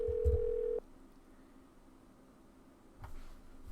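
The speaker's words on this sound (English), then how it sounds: "Let's make some phone calls." Telephone dial tone in the Nancy Drew video game, a steady pure tone that cuts off after under a second, followed by quiet line hiss and a few faint clicks.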